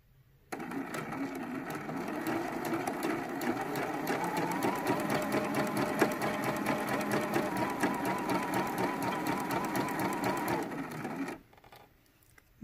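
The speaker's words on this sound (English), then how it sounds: "Now from my second stack, I'll pull up the first 2 fabrics. Sew those together." A sewing machine stitches quilt fabrics together in one continuous run, a close, rapid mechanical whirring and clatter that starts abruptly, holds steady for about ten seconds, then stops.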